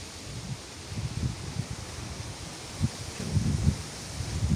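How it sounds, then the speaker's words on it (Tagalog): Wind rustling leaves outdoors in gusty bursts, with soft low rumbles of wind buffeting the microphone that rise and fall, steady hiss beneath and no talking. "Lami kitag hangin."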